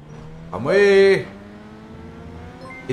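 A car passes close on the road, its engine note rising and falling in a loud whoosh lasting about half a second, then fading into quiet background.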